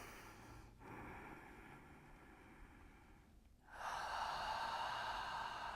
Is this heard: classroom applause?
no